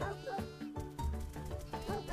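Sheep bleat over a steady soundtrack in the video game Sheepherds!, several short wavering calls in a row with music-like tones running underneath.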